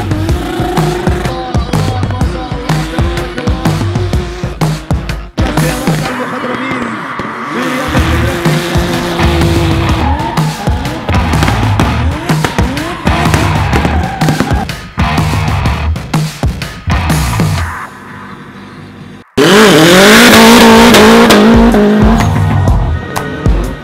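A KTM stunt motorcycle rides, revs and skids nearby: loud engine revs rise and fall repeatedly, with tire squeals, bursts of skidding and short gaps throughout, ending in a sustained roar.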